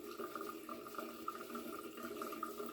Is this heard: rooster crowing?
no